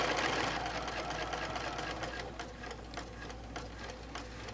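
A sewing machine runs steadily while machine-stitching a separate French binding onto a quilt, a continuous fast mechanical whirr with rhythmic ticking of the needle, close and alone with no talk.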